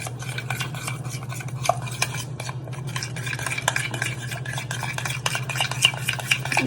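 Red chili flakes and tomato ketchup being mixed into a dip paste for sushi, a spoon scraping and clinking quickly against a bowl in a steady close rhythm over a low continuous hum, without any talking.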